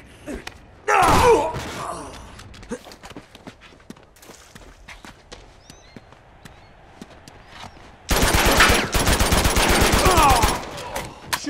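Rapid automatic gunfire from the video game Uncharted 2 Among Thieves Remastered, in two loud bursts near the start and end, with scattered single shots and footstep-like clatter in between.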